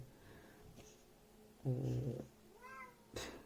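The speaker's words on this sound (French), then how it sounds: "j'ai mon chat, super." A cat meows several times indoors, fairly close but soft, with short separate calls spaced across a quiet background.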